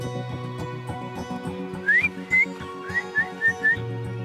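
A person whistles to call a trained bird, giving a series of short, sharp, rising whistles, about six in quick succession, clear and close over a low background hum.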